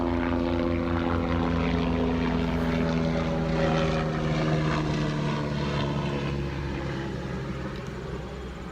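A loud, steady drone of helicopter rotors and engine fills the air overhead, holding strong throughout before easing slightly near the end.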